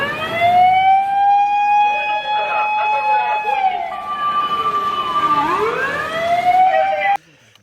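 A toy fire truck's electronic siren wails loudly and continuously in rising and falling tones, with several pitch sweeps, then cuts off abruptly near the end.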